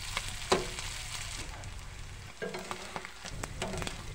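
Small jatka fish frying in oil in a pan, a quiet crackling sizzle with scattered pops and clinks of stirring, no voices.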